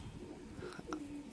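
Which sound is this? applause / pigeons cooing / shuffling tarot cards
pigeons cooing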